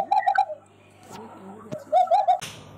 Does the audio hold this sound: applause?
no